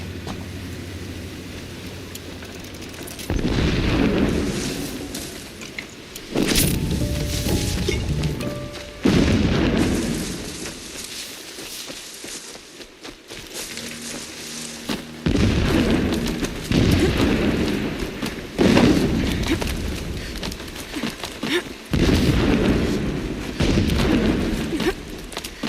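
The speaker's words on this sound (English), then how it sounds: "Explosions in the distance." Distant explosions in the video game Horizon Zero Dawn, a series of deep, muffled booms and rumbling swells rising and falling at irregular intervals over a low background hum, with no talking.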